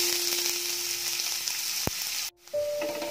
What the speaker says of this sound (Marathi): मी 2 कांदे चिरून ठेवले होते ते आपण टाकू।